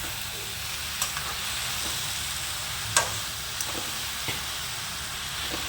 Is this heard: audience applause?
no